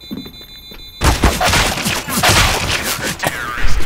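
A loud, sudden burst as a bomb explodes in the game CS:GO, followed by several seconds of dense, rumbling blast noise with crackling impacts after a brief quiet lead-in.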